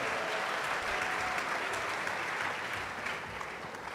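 Steady applause from an audience at a university agriculture anniversary celebration, greeting a deputy minister of energy; even, continuous clapping at moderate distance, fairly soft throughout.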